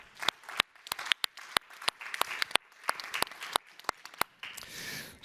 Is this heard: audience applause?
yes